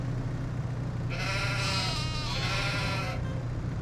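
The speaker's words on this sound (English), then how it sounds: "Wow, that's not a happy sheep." Sheep in Farming Simulator 25 bleats once in a long, wavering cry over a steady low farm-machine hum, fairly close and clear.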